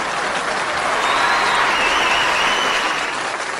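An audience claps through a humorous Tamil stage talk, a loud, even sustained patter of many hands with no pause.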